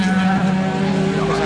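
A racing car passes during a race, its engine giving a loud sustained whine with a gradually shifting pitch, alongside a continuous background roar.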